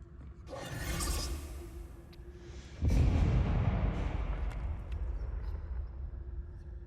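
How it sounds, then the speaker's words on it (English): A deep explosion booms in Hogwarts Legacy, a sudden low rumbling burst that swells and lingers, following a softer rushing swell with faint creaks and mechanical game ambience. "Go to the explosion, you nimwit."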